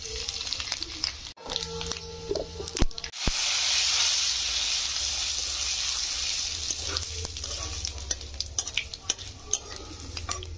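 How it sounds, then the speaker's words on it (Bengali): Ingredients sizzle steadily in hot white oil after landing in the pan around the third second, with scattered stirring clinks and scrapes over the bright hiss. "হালকা করে একটু ভেজে নেবো"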